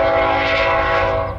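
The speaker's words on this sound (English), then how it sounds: "there's a train coming." A train horn blaring loud and sustained over the rumble of a passing train in California's Central Valley, a single continuous blast.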